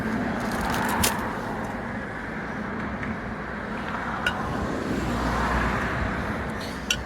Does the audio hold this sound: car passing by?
yes